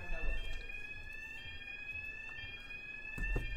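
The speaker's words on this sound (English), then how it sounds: "Okay, an alarm." Alarm tone from a streamed online compilation, a steady high electronic beep sustained across the whole stretch, with low rumbling thumps underneath.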